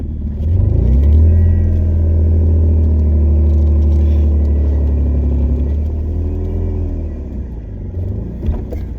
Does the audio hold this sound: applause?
no